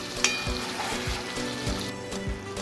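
Egg curry simmers and sizzles steadily in a pan while a spoon stirs it in several slow, regular strokes, close and moderately loud with no talk.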